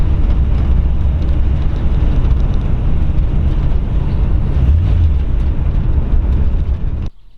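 A 1939 Ford Deluxe Tudor sedan with a retro 283 V8 cruises in third gear, its engine droning steadily and close under road rumble before cutting off abruptly at the end.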